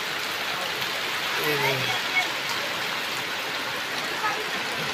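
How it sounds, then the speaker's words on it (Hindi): Steady, dense rain falls outside in Cuttack, Odisha, a continuous hissing wash heard at close range, with someone speaking briefly over it. "तो गाइस अभी बारिश देखिए, पूरा बारिश कैसे हो रहा"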